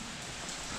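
Steady rain from a passing storm pours down continuously, a broad even hiss close by with no talk over it.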